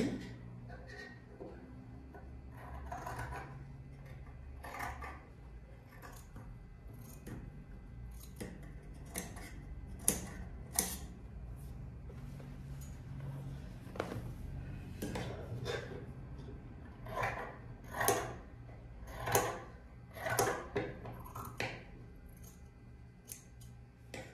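Scissors snip through dress fabric as a garment is trimmed during sewing, a run of crisp, close cutting strokes that grow quicker and louder toward the end, over a low steady hum.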